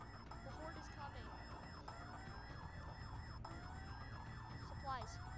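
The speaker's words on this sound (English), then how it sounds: "our zombie's gonna come to us because we set off the alarm" Alarm set off in the Roblox zombie game Field Trip Z, a quiet, repeating wailing tone that rises and falls in sweeping cycles over game background noise.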